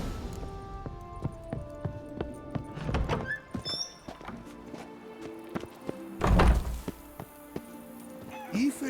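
Horse hooves in The Witcher 3 video game, a rhythmic run of sharp thuds near and fairly loud, with a whinny partway through, set among game music and ambient sound.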